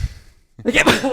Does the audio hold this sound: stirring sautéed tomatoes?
no